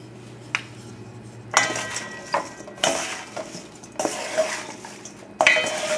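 A spoon mixes pork loin with olive oil in a pan, giving a series of sharp metallic clanks and scrapes against the pan at irregular intervals, close up, over a faint sizzle, with no talking.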